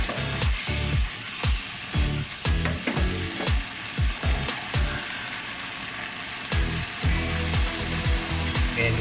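Chicken stir-fried with garlic and pepper in a Thai home kitchen, loud continuous sizzling broken by frequent rhythmic scrapes and clanks of a spatula against the pan, with no talking.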